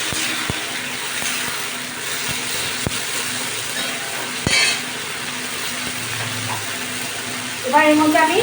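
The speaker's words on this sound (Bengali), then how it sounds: "এবার আমি এটাকে একটু নাড়াচাড়া করে নিই।" Frying sizzle in a pan of chicken kosha with ginger and garlic, with periodic scraping and knocking of a spoon while stirring, and a louder clatter near the end.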